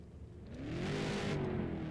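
Race car engines hum steadily in a racing video game on a superspeedway, a low continuous drone that swells slightly in the second half with no voices.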